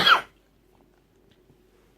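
A single close, harsh cough from someone with a lung infection, brief and loud, followed by near silence.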